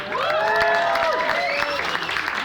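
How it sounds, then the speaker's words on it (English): A crowd at a live hip-hop show in the O2 Academy, Birmingham claps and whoops, with rising and falling shouted cheers over a continuous roar of applause. "Round of applause for Dems, please."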